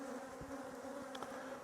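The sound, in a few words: honey bees buzzing around hive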